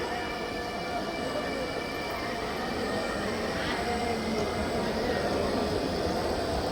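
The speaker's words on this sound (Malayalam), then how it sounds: "നമുക്ക് പോവാനുള്ള ട്രെയിൻ ഇതേ വരുന്നു കേട്ടാ" A continuous rumbling roar of a train arriving at a station, with rattling and faint squealing wheels, steady and close, with no clear speech.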